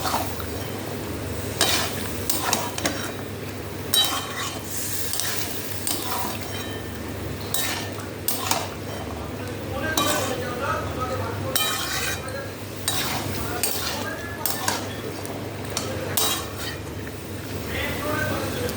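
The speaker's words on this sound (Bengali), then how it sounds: "এবার এটাকে ভালো করে কষিয়ে নেবো এর সাথে।" Mutton mince with chana matar stir-fried in a pan brings repeated scrapes and clinks of a spoon against metal over a low sizzle, with background noise that is steady and fairly close.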